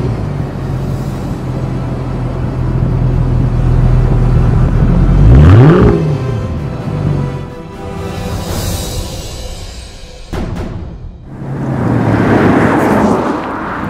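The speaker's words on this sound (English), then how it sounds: "you've also got that very provocative sound emanating from the quad tips in the back" A 2008 Mercedes-Benz S63 AMG's quad exhaust tips rumble loud and close, with a rising rev sweep, a lull, a sharp burst, then another swelling roar.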